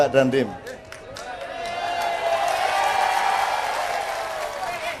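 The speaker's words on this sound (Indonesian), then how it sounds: "Tepuk tangan." Applause and cheering rise from a crowd, building after a brief opening voice into a sustained wash of clapping and whoops that tapers slightly near the end.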